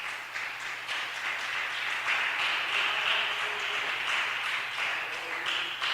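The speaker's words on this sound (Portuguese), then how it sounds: "Bate palma assim para Jesus." A congregation at a Sunday church service claps together, a soft, steady patter of many hands heard from some distance at low volume.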